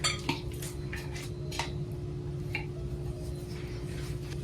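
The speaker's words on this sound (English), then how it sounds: "I'm gonna put the bananas in this bowl." Mashed bananas are scraped into a bowl with soft squishy plops and light clinks of utensil against the bowl, close and quiet over a steady hum.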